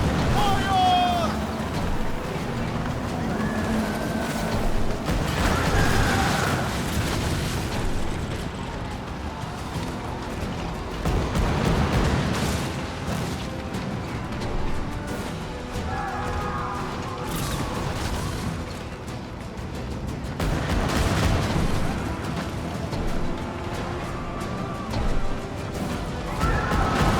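Cannon fire from a pirate ship in Skull & Bones on Xbox Series S: heavy booming blasts and crashing impacts recur across a dense, continuous battle din of water and mechanisms, with voices calling out over it.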